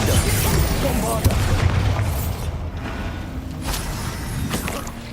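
Bombarda blasting spell in Hogwarts Legacy, booming explosive bursts with a sharp pop partway through and rumbling game effects, while someone speaks over them.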